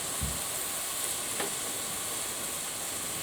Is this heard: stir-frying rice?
yes